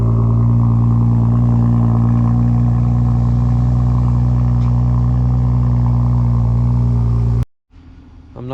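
A BMW F30 335i engine idles steadily after a spark plug change, with a deep, even hum and a faint rhythmic tick, then cuts off abruptly near the end.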